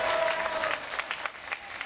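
Audience applause at an outdoor jazz festival in Nice, a dense wash of many hands clapping steadily, moderately loud and slightly distant, fading a little toward the end.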